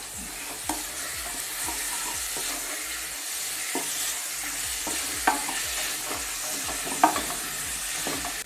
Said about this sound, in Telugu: దీంట్లో ఈ కీమా వేసుకొని ఒక 15 మినిట్స్ ఫ్రై చేసుకోవాలి